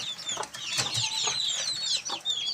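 Native deshi chickens on a multi-storey poultry farm cluck and chirp in overlapping, fairly close bursts, a busy flock chatter with no talking.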